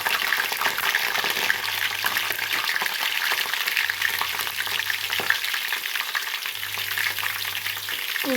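Onion frying in hot oil with cardamom, cinnamon and long-slit green chillies, a steady close sizzle and crackle with occasional stirring scrapes and clinks, no voice.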